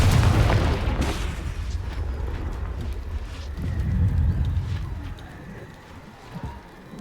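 A Confringo blasting spell explodes in a Harry Potter video game, a loud low boom at the start that rumbles on, with a second swelling burst of rumble midway before fading, with no talk over it.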